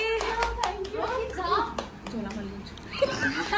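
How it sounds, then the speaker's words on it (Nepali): Children clap together at a birthday celebration, with several sharp claps near the start and then a looser patter, while kids chatter and giggle around the clapping. "ताली"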